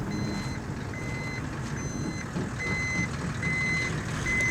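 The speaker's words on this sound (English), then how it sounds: "Now I'm getting towed." Tow truck in the video game Desert Bus gives steady, evenly spaced electronic reversing beeps over a constant low engine rumble, with no talking.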